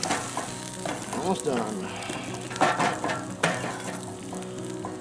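Bacon and eggs sizzle and fry in a G.I. mess kit over a campfire, a steady crackle with scraping stirs, while a person speaks briefly over it and wind noise drifts in.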